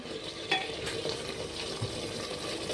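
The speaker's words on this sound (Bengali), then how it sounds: "লবণটা দিয়ে ভালো করে কষে নেব গ্যাসটা সিমে রেখে" Mutton pieces fry with salt in a pan over a low gas flame, a soft, steady sizzle with faint scraping stirs and a couple of light clinks, quiet and close.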